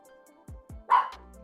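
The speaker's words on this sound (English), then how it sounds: "I'm grateful that I can even hear this bark right now." A dog barks close by, two quick low woofs followed by a louder, sharper bark, over a faint hum in an otherwise quiet space.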